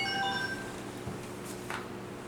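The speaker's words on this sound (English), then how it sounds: "More dings on the phone." A phone chimes with a quick run of bright notification dings that fade, leaving a faint room hum and a few small clicks.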